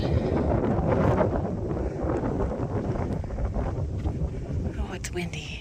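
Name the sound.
wind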